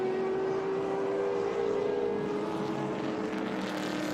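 A rare Mazda four-rotor race car climbs a hill at a vintage race, its engine a sustained droning whine holding steady at a distance, with no talk.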